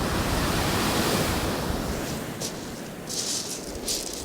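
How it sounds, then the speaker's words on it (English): A large sea wave breaks on the shingle of Chesil Beach, a loud broad rushing wash that slowly recedes, followed by fainter hissing and rattling of pebbles as the water drains back. "That's a big wave"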